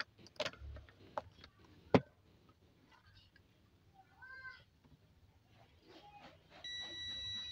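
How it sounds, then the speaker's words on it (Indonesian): A multimeter's continuity buzzer gives a continuous high, steady electronic beep near the end, detecting a short in a neck massage pillow, after a few scattered clicks and soft handling noises in a quiet room. "Nah buzzer avometernya berbunyi dan ini terukur short."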